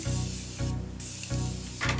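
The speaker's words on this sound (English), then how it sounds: "We're going to use a Morphe setting spray, the continuous setting spray." Morphe Continuous Setting Spray is misted in two or three short, airy hissing bursts over a faint low hum, close and fairly quiet, with no voices.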